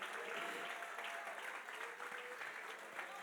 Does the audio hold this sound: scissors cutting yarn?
no